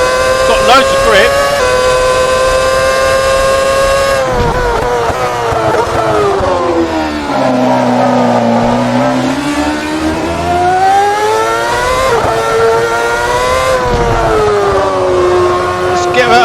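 A 2009 Ferrari F60 Formula One car on a test drive gives a loud, sustained engine whine that climbs and falls through gear changes and revs, with a dip in pitch mid-lap. The engine note stays dominant throughout.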